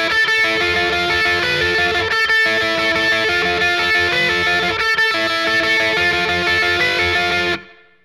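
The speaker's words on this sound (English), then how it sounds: "let's just play through the parts with some distortion" A distorted electric guitar plays parts of a song, a dense, continuous riff with brief breaks that fades out at the end, with no talk over it.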